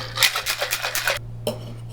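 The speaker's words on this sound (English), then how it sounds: "give it a really good shake" Cocktail shaker packed with ice for a margarita, shaken hard in a quick, even rhythm of bright rattling bursts, loud and close, with a brief pause before one last jolt and no talking.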